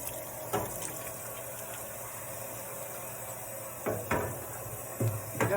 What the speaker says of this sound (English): anytime I wash a screen, I like to get both sides a little bit damp